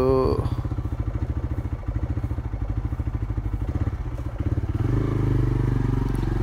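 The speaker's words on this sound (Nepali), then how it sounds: "मेरो बाइक छिर्छ कि छिर्दैन यार" A motorcycle in a narrow Kathmandu lane, with a steady, close, rhythmic engine chug that swells slightly near the end as it edges forward; a voice is faintly present.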